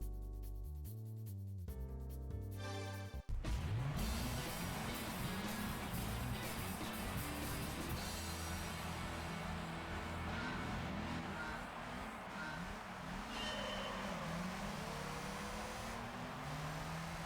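Gran Turismo 3 race cars, including a Nissan Silvia, rev loudly after a short musical intro, engines rising and falling through gear changes in a continuous, close roar.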